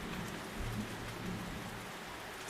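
Steady rain falling on surfaces, a soft constant hiss with faint scattered drops and a low rumble, quiet and unbroken.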